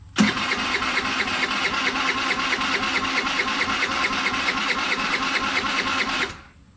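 An engine cranks and catches right away, then runs at a loud, steady, rapidly pulsing mid-pitched idle for about six seconds before cutting off abruptly.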